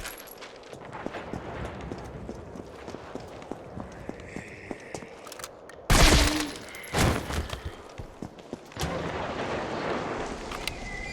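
Gunfire rings out in the video game Resident Evil, a few loud booming shots near the middle following a stretch of footsteps and softer scattered impacts.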